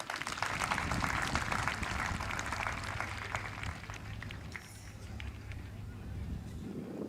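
Applause from the audience for the graduates at a university graduation ceremony, a broad, steady wash of clapping that fills the whole stretch and thins a little toward the end.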